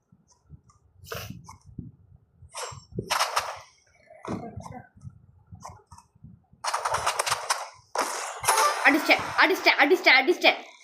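Gunfire in the first-person shooter game Rivals, bursts of rapid shots and single cracks scattered across the span, growing denser toward the end, with a voice talking and reacting between the shots.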